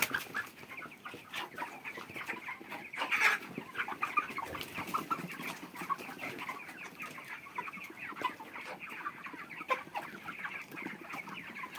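Broiler chickens on a farm, about 40 days old and large-bodied, cluck and chirp steadily as a dense flock for the whole stretch, with a few louder calls standing out from the continuous murmur.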